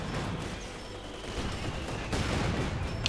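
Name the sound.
machine gun fire in Company of Heroes 2 video game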